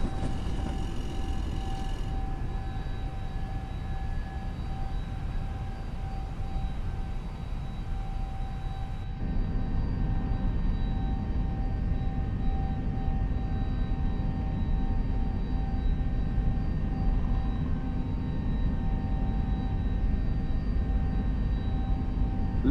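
The CFM-style jet engines of an Airbus A321neo in Microsoft Flight Simulator 2024 give a steady, broad roar with a faint whine in an external chase view. Partway through, the tone abruptly dulls as the hiss drops away.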